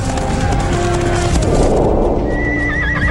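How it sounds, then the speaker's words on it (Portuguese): Cavalry horses in battle, with loud galloping hoof clatter filling the moment and a high whinny rising near the end over a dense rumbling background. "Os humanos vão a cavalo para a batalha pela primeira vez."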